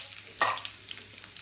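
Chillies and curry leaves hit hot oil for a khandvi tempering, a sudden short burst of sizzling that quickly settles into a faint, soft crackle.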